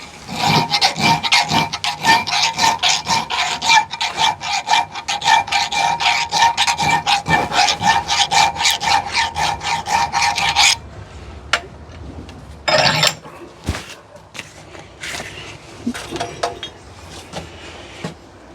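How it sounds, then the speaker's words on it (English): Rapid, steady rasping strokes of a hand file on a forged iron spur, opening a round hole into an oval, loud and close for about ten seconds, then scattered quieter scraping and handling noises. "I'm going to make it filed out so a little more oval"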